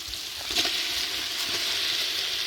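Chicken pieces fry in a pan with softened tomato and chili for a village-style chicken gravy, giving a steady, bright sizzling hiss. Faint stirring knocks sound close by.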